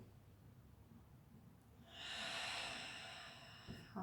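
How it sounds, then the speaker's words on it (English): A deep breath during yoga practice, a soft quiet lead-in followed by a long airy exhale through the nose or mouth that swells, holds and slowly fades, heard close with no talking. "1 last breath"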